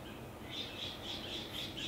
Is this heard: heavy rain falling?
no